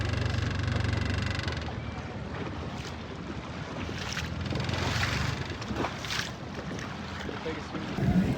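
A dinghy's engine hums steadily as it motors across a bay off Malta, with wind buffeting the microphone and faint voices mixed in.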